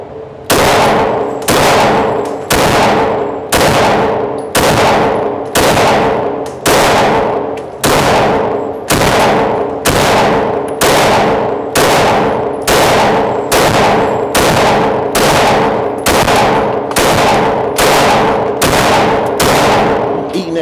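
Gunshots ring out from a 9mm Polymer80 pistol, about twenty loud, sharp reports evenly spaced around a second apart, each leaving a short ringing tail.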